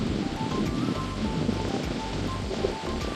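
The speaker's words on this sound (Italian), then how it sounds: "C'è un vento da paura" Strong wind blowing outdoors in northern France in August, near cycle paths and a small bridge: a steady, loud broadband roar with low gusting rumble that never lets up, no voices.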